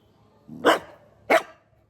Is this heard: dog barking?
yes